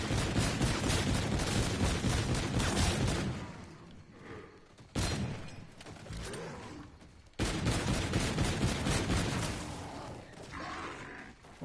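Rapid M14 gunfire in a zombies video game, dense bursts of shots with a short quieter gap in the middle, heard alone without talk.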